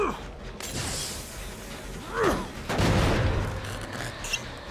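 The Clown reloads in the horror game Dead by Daylight, a clattering mechanical sequence of creaks, clanks and a glassy rattle, with muffled bangs and a low rumble underneath.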